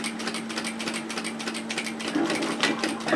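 Sewing machine stitching along a fabric edge while sewing a robe, a rapid continuous rattling hum of needle strokes with steady rhythm, close and fairly loud, no voices.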